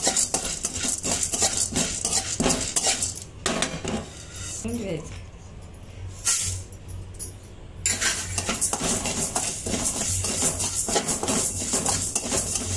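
Dry-roasting spices and urad dal in a pan for homemade sambar masala, with a metal spoon scraping and clinking steadily against the pan in a busy stirring rhythm, pausing briefly midway before resuming.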